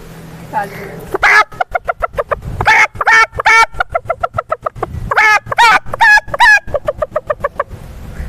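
A person mimics a rooster, voicing a rapid run of loud, choppy crowing and clucking bursts close up.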